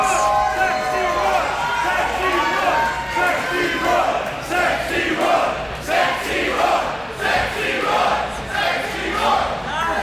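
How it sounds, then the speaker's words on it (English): Wrestling event crowd at a bar venue in Phoenix, Arizona cheering in a loud, continuous roar with surging shouts, under an excited commentator's voice. "This crowd here is electric for Sexy Roy"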